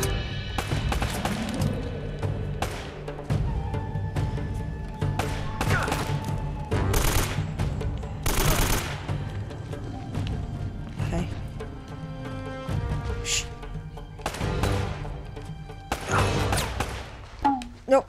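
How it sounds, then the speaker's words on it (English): Gunfire from a gun in Uncharted: Drake's Fortune, a string of loud sharp shots and bursts scattered through a busy game mix, with someone talking over much of it. "Gun."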